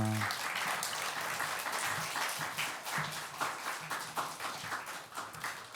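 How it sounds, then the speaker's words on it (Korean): A church congregation at a Sunday worship service applauds to welcome the preacher, a dense, steady wash of many hands clapping at moderate distance that runs throughout, with a faint voice briefly at the start. "우리 박수로 환영합니다"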